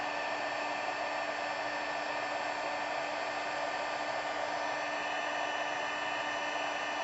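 A heat gun blows steadily to dry embossing powder on a handmade greeting card, a constant loud whooshing hiss with a faint whine, running alone without pause.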